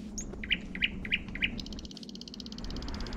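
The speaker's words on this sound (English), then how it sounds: "Now I heard a bird." Bird in the video game Human Fall Flat chirps four quick high tweets in a row, followed by a rapid trilling call over a low ambient hum.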